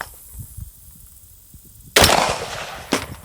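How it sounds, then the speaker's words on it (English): Two loud, sharp rifle shots from an M16A2 fired at a target on a range. The first is a strong crack after near-silence, and a shorter report follows about a second later. "put a few rounds on the C zone"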